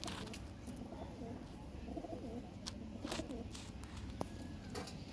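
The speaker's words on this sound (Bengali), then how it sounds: "পুরো সব পায়রা" Several pigeons for sale, including single males, cooing softly and steadily in a cramped pen, with faint chirps and scattered background noise.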